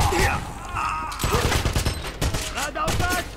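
Dense bursts of automatic gunfire and rapid shots from a firefight in the video game Wolfenstein, loud and continuous across the whole stretch, with voices faintly mixed underneath.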